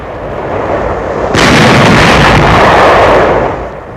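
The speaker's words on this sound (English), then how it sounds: "Firing on enemy barges in the Rhine before Dusseldorf." Artillery guns fire on enemy barges on the Rhine before Düsseldorf in 1945, a loud sustained roar of gunfire that swells abruptly and holds for a couple of seconds before fading, with no voices.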